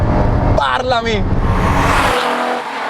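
An Alfa Romeo Alfetta GTV6 with its 2.5 engine revs loudly, the pitch climbing and falling in a short burst before settling into a steady drone, with someone talking over it throughout.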